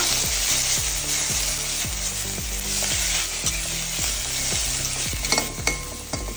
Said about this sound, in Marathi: तेल जशें तापले तशें तितून घालून घेऊया कांदो बरो तळसून घेऊया